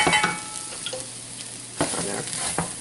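Shaved Brussels sprouts sizzle steadily in a hot pan while a spoon stirs them, with scraping clacks at the start and again near the end, close and moderately loud, no voices.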